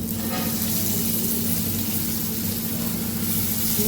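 Spinach added to a hot pan gives a loud, dense, continuous sizzle and hiss, steady and close throughout.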